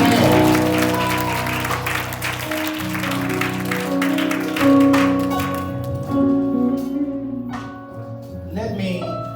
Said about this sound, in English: Bless the Lord now with your hands clapped.